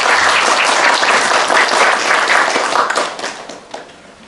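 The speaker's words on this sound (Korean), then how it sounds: "좋은 말씀 해주신 부의장님께 다시 한번 큰 박수 부탁드립니다." Audience applause at a public restroom monitoring report and forum, loud, dense clapping from a room full of people that holds steady, then thins and fades over the final second.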